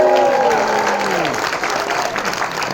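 A cinema audience applauds after a screening of the first episode of The Dark Crystal: Age of Resistance at the BFI, a dense, steady wash of many hands clapping, with a voice speaking over the opening moments.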